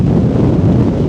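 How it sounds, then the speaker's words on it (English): Strong gusting wind on the exposed summit of the Munro Carn a' Chlamain, a loud, steady roar buffeting the microphone with no let-up. "Windy as hell up here."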